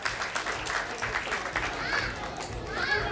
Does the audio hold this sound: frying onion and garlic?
no